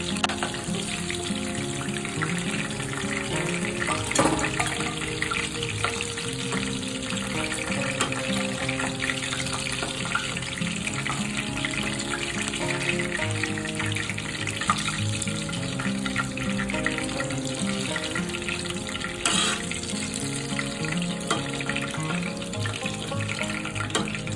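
Chicken pieces frying in a pan for Indian-style chilli chicken, a steady close sizzle running throughout with occasional stirring clinks and no talk.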